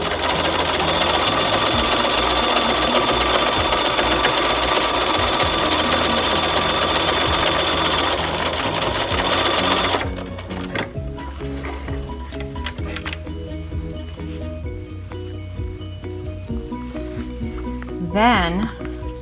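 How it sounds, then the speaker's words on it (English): A sewing machine stitches quilt pieces for a cathedral window quilt, running as a loud, steady mechanical whir for about ten seconds, then stopping. Quieter handling noises follow. "we're going to sew down that top line"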